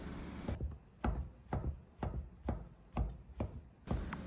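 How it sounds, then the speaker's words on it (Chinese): A knife chops through rolled-up tofu skin on a cutting board, slicing it into half-centimeter strips; steady, evenly spaced thuds about every half second, close and clear with no talking. "切成半厘米宽的长条。"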